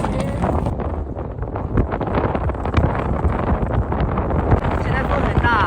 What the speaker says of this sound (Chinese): 今天的横风太大了，吹车都推不稳。